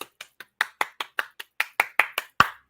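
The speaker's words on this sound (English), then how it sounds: "he gets a round of applause" About a dozen sharp, evenly spaced hand claps ring out alone in a steady rhythm at a political address, close and crisp, with the last clap the loudest.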